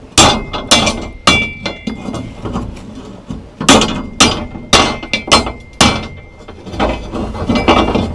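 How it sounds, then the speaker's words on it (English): Hammer blows beat on the metal parts of a campfire cooking tripod: loud, sharp clanking strikes come in irregular bursts, with brief pauses between groups of hits and a faint metallic ring after some impacts. "And now I can take my hammer"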